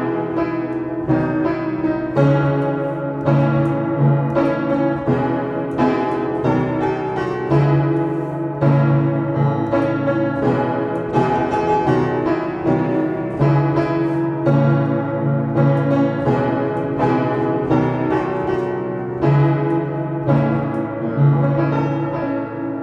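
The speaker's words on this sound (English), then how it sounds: "Let's play a song that everyone knows, so you can really picture how bad this piano sound." An out-of-tune piano plays a song, chords and melody sounding continuously at steady volume with sour, clashing notes and no talking.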